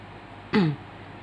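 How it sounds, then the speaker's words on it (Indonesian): A single short cough or throat clear, close and fairly loud, in an otherwise quiet room. "Ini baru mulai udah batuk, gimana ini?"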